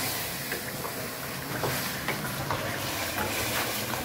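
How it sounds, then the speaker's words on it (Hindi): Beef karahi frying in a pan: a continuous sizzling hiss with soft scraping stirs, steady and close. "बस इसी तरह ये फ्राई हो रही है"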